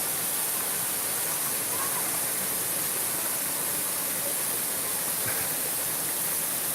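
Steady, even rush of falling water at Kanto Lampo waterfall in Bali, a broad continuous hiss filling the scene with no pauses or distinct splashes, nearby and constant throughout.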